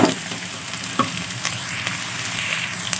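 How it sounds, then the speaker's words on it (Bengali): Cut potatoes added to a pan of lightly fried onions sizzle steadily up close, with a few sharp clinks and stirring knocks over the constant hiss. "এখন আমি দিয়ে দিচ্ছি কেটে রাখা আলু।"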